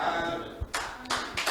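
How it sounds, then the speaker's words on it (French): A few scattered claps from a church congregation during a French-language sermon, three or four separate bursts of hands close together, with no one speaking over them. "Vous applaudissez pourquoi?"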